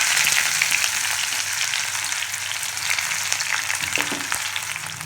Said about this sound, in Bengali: এবার এর মধ্যে আমরা কেটে রাখা পেঁয়াজটা ছেড়ে দেব।